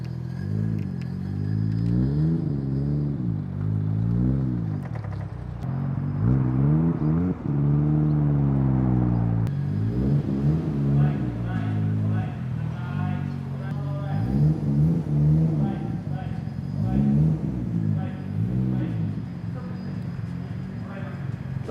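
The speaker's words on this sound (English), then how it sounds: "Move the GTR inside." Nissan Skyline R34 GTR engine running as the car is driven into a workshop, a low idle rising into repeated revs and clattering, heard under near-constant talk.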